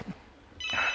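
A phone starts ringing with an incoming video call, a bright electronic ringtone cutting in loudly after a brief quiet moment.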